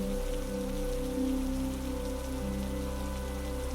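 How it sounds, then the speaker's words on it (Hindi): Steady rain falling over a constant low droning hum, even and unbroken throughout. "बारिश पूरी रात चली।"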